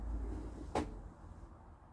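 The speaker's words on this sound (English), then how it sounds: "One cupboard above the cooking area with a little plastic shelf." A campervan cupboard in a Pilote V630J X-Edition is opened and shut, a single sharp knock near the middle of the clip against a low background hum, close by with no talking.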